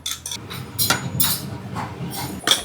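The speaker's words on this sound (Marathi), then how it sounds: "व्यवस्थित फेटून घ्यायचं आणि ते गठळ्या काढून टाकायच्या" Batter with salt, soda and turmeric whisked briskly in a bowl, a spoon or whisk clattering against the sides in quick irregular clinks, close up with no talking.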